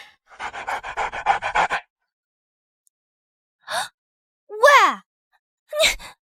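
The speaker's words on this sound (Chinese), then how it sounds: "小狗它那么可爱，怎么舍得吃它呀？" A small dog pants in a quick, rhythmic burst of breaths up close, then after a silent gap gives a few short, separate whiny exhalations and sighs.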